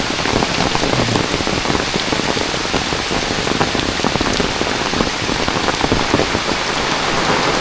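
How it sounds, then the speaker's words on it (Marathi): Heavy monsoon rain pours down in a Konkan village, a loud, dense, unbroken hiss of drops on surfaces that holds steady throughout with no voices. "पावसाला जोर आहे बाबा"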